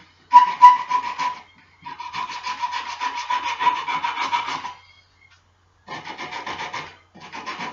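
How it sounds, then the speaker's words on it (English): Sandpaper rubs against a squared-off wooden chess bishop in rhythmic bursts of rasping strokes, several strokes per second, close and fairly loud, with short pauses between passes. "We get the sandpaper and just get in there."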